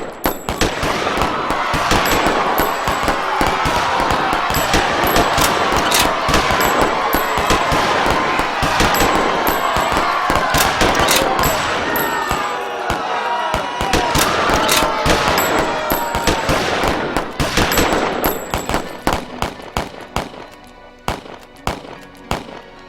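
Dense machine gun fire and rapid gunshots in a dramatised 1919 massacre scene, loud relentless bursts crackling close for most of the stretch, thinning into scattered shots at the end, with faint crowd noise beneath.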